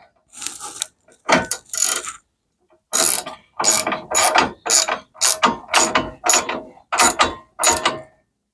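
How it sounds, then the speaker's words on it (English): A ratchet wrench clicks as it turns a battery terminal bolt on a John Deere F525 riding mower, in close, loud bursts of rapid pawl clicking separated by short pauses. "And get our wrench on here."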